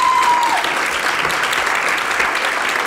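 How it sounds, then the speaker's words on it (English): Sustained applause from a concert audience, a dense even wash of clapping that continues throughout. "thanks for the applause"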